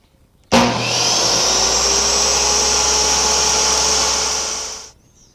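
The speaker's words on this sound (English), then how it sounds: "put it against the blade and sort of just put a little strain on it just to see if we can't whisk off just the smallest amount" A saw blade trims a cast iron surface plate pattern: the machine spins up abruptly, holds a loud, steady, high whine with a cutting rasp for about four seconds, then stops.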